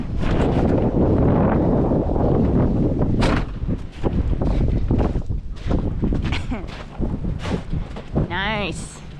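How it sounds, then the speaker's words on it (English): Strong wind on a dairy farm buffets the microphone in heavy rumbling gusts, easing toward the end as a voice speaks briefly. "It's very windy out."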